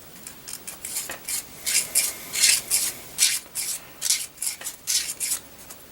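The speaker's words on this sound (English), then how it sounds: "we're going to try and fold our sandpaper a little bit and kind of gently sand it with the contour of the piece" Folded sandpaper rubbed gently along the contour of a rounded carved piece during cleanup, giving a steady series of soft, close scratchy strokes in an even back-and-forth rhythm with no talking.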